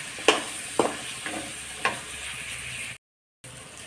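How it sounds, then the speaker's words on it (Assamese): Ground pepper, cumin and five-spice sizzle gently in a pan while a utensil scrapes and clicks a few times, followed by a short silence. "এতিয়া ভাজিছোঁ।"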